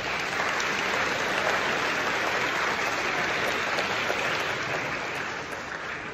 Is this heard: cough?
no